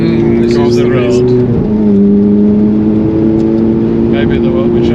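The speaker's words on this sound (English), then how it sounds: "little rev match" Ferrari 430 Spider engine blipping during a rev-matched downshift on a road drive, a steady engine drone that briefly jumps and settles to a new pitch, heard under continuous talk inside the car.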